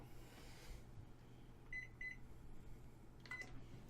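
Microwave keypad buttons give three short, bright beeps as the timer is set, two in quick succession and one a beat later, over a quiet, steady background hum.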